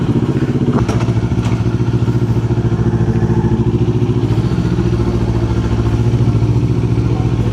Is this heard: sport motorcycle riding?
yes